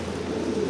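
Fancy pigeons coo in a low, soft, murmuring drone, a brief steady burble heard up close with no talk.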